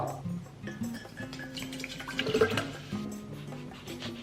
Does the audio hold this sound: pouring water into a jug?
yes